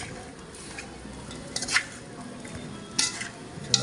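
Dough mixed and kneaded by hand with crushed cumin, Mayavaram-style home cooking: soft, wet squishing and stirring throughout, with a few sharper clicks and taps standing out near the middle and end.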